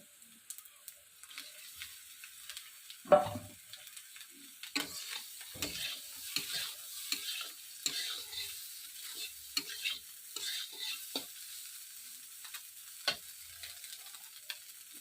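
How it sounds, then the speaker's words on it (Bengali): Fish frying in a pan with chilli and spices, a faint steady sizzle dotted with light crackles and a few stirring knocks, one louder clunk early on, close by and without talk. "লঙ্কা আর মশলাগুলোর মধ্যে মাছটা এখন ছাড়ে দিব"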